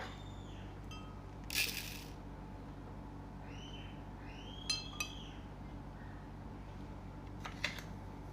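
A spoon scooping sugar for lemonade makes a few light, bright clinks against a container, quiet and spaced apart over a faint steady background hum.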